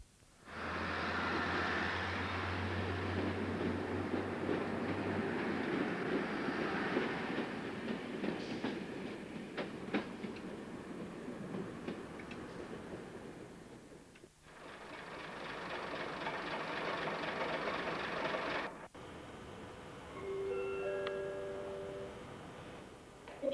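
A diesel passenger unit runs on the Lincoln to Sheffield line through cut-and-cover tunnels near Sheffield, its steady roar and rail clatter loud throughout, dipping briefly as it passes between tunnel sections, with faint tonal squeals near the end.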